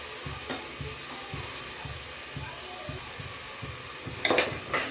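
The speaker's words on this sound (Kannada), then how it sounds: "ಇದನ್ನು ಕೂಡ ಒಂದು 5 ನಿಮಿಷ ಫ್ರೈ ಮಾಡ್ಕೊಳ್ಳೋಣ" Green beans, carrots and field beans fry and sizzle in a pan for pulao, a steady close hiss with a soft rhythmic scrape of stirring and a brief clatter of utensils near the end.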